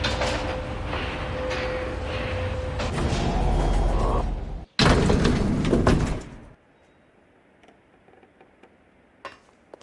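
Elevator ride in the video game L.A. Noire: a steady loud mechanical rumble and whir for several seconds, a sharp break, another loud stretch, then it cuts to near-quiet with faint ticks.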